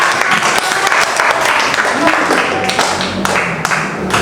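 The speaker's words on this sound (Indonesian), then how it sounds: "tepuk tangan buat" Classroom of students applauding during a Pancasila civics lesson, a dense, steady clapping that fills the whole stretch at close range, with a few stray voices mixed in.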